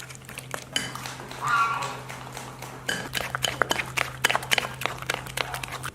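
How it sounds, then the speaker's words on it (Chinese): Beaten eggs, flour and salt whisked in a bowl, with rapid clinking and tapping of a utensil against the bowl's sides, close and steady, growing busier toward the end. "再加点盐，搅拌均匀。"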